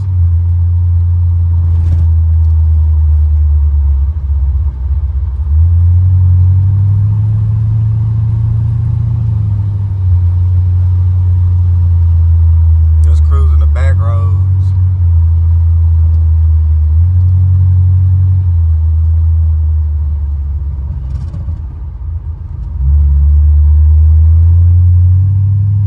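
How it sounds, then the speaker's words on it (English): A 1986 Buick Regal Limited with a big block V8 and Holley EFI rumbles loudly from inside the cabin while driving, its engine note rising and falling through several gentle pulls with a brief rattle in the middle. "I just like to hear the car sounds, man."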